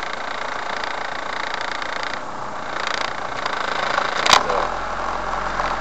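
A car drives through a dry, muddy riverbed on the way into La Rabita, its engine a steady low rumble over rough crunching, with a brief louder jolt near the end.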